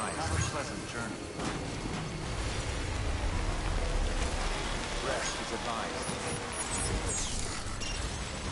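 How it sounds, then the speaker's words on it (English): Steady timefall rain in the video game Death Stranding, a dense continuous patter and hiss filling the whole stretch at an even level, with faint muffled talk and ambient game sounds underneath. "been getting near constant timefall in this region for a while now."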